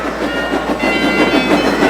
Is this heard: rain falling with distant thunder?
no